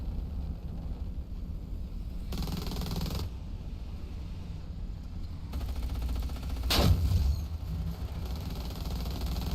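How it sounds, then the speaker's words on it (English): Heavy gunfire from AI-controlled vehicles in a video game, with several loud booming bursts and one sharp close blast against a constant rumbling engine drone. "Oh, great. You're shooting me, you silly AI."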